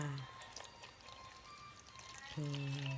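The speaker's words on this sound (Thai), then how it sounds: "น้ำก็จะใส่ ใส่น้ำสะอาดนะประมาณน่า" Clean water is poured into a pot for boiling while making a Thai dessert, a steady splashing pour lasting a couple of seconds between short bits of a voice.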